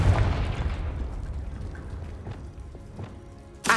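A single Confringo blasting spell bursts in Hogwarts Legacy with a heavy low boom at the start, its rumble fading under faint game ambience before a sharp crackle near the end.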